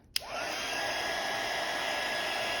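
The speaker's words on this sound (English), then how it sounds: "I'm moving the blow dryer or the heat gun, whatever you have, moving it back and forth" Blow dryer or heat gun switched on and blowing steadily on a custom candle, a loud continuous whooshing motor roar after a short click, with no talk.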